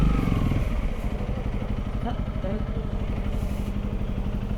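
A Honda CRF motorcycle idles steadily at a service shop, a close, continuous chugging engine rumble with faint clatter and background voices.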